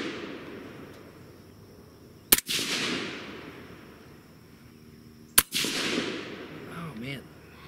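A 22 ARC rifle loaded with Hornady 75 grain ELD Match ammunition fires two loud, cracking shots about three seconds apart, each trailing off in a long echoing decay outdoors.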